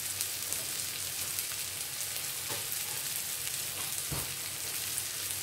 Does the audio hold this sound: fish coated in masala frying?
yes